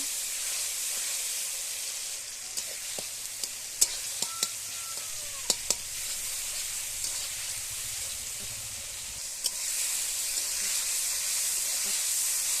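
Tomatoes fry in oil for a paneer curry with a constant soft sizzle and hiss, broken by scattered light clicks and taps of a utensil, a faint whistle-like tone in the middle, and the frying swelling slightly louder near the end.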